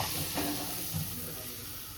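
Butter sizzles in a pressure cooker at the start of a chicken biryani, a steady close frying hiss throughout the short moment.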